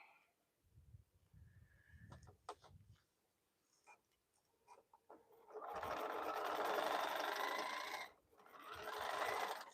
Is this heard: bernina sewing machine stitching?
yes